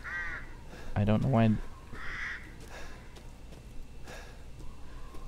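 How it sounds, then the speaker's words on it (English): Several crows caw harshly in the Resident Evil Village video game, a loud close burst followed by fainter scattered calls, with a person talking briefly over them. "Oh, there's birds."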